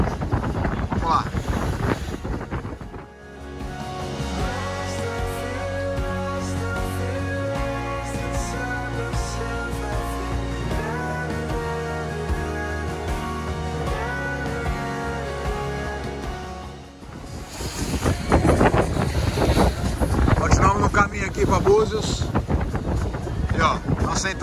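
Strong wind roars over a boat crossing the sea off Cabo Frio toward Búzios and Praia da Ferradura. Loud, gusty buffeting fills the opening and closing seconds, with music in between.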